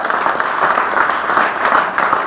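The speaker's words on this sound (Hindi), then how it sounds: "उनके लिए एक बार जोरदार ताली।" Strong applause from a crowd at a direct-selling business gathering, continuous and fairly loud with slight swells in intensity.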